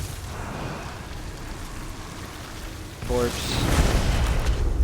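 Necromancer corpse explosion and blastbones skills going off in the Elder Scrolls Online, a rumbling burst and booming blast after a few seconds of steady background noise, with a rising whoosh.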